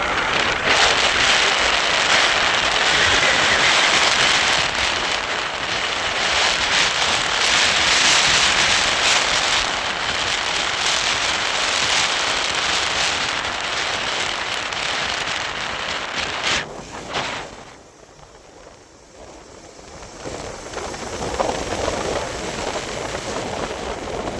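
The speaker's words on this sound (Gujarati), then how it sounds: "જો વરસાદ પણ આવે છે." Steady rain falls close by on an outdoor surface during a visit to a relative's home, a dense continuous hiss that fades briefly near the end before returning.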